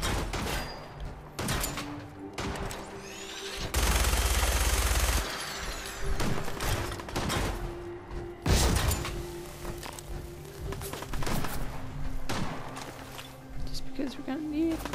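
Gunfire from a weapon in the video game Fallout 4, with repeated bursts and a loud sustained volley in the middle, heard under someone talking.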